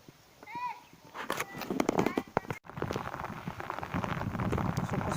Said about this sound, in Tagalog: Kusog na yung ulan guys.